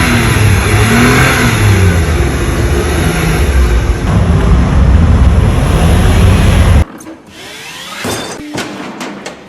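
Small cars, many of them smart cars, driving through tiny narrow streets in Rome, a loud close engine revving and accelerating past, then cut off into quieter street noise with a few sharp knocks.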